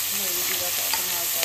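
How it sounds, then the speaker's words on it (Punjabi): Vegetables sizzling and frying in hot oil during tempering in a pan, with stirring scrapes over a steady crackling hiss, close and continuous. "1 ਮਿੰਟ ਪਹਿਲਾਂ ਤੜਕਾ ਲਾਵਾਂ ਜਾ ਕੇ ਸਬਜ਼ੀ ਨੂੰ"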